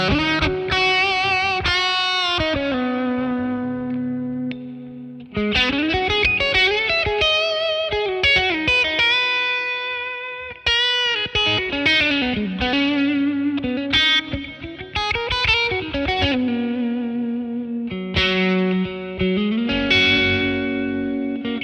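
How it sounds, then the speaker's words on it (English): Electric guitar played through an amp with reverb via a BOSS Waza Tube Amp Expander, distorted chords and sustained notes ringing out with a reverberant tail, phrases separated by brief pauses, loud and alone. "Put the reverb back in"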